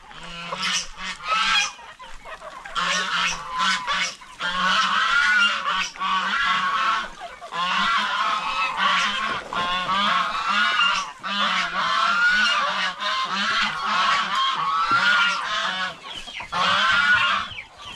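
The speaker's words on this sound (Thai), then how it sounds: "ไก่หิวข้าวแล้ว" Hungry chickens crowding around waiting to be fed, a loud, busy chorus of clucking and squawking that rises and falls continuously, close by and without talk.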